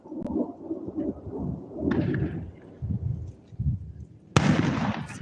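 Thunder rolling after a lightning bolt at a Wyoming camp, a low, loud rumbling that swells and fades over several seconds, with a sharp crack near the end, heard outdoors without talk.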